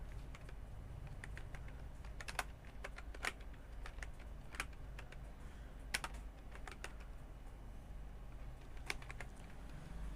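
Keys clatter on a computer keyboard as Bangla text is typed in the Bijoy Classic layout, quiet, close, irregular taps and short bursts with brief pauses and no talking.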